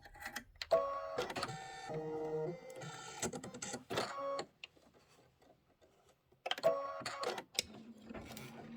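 An embroidery machine stitches out a tombstone outline on quilt fabric, giving a rapid mechanical clatter in bursts with short pauses between runs, close and moderately loud.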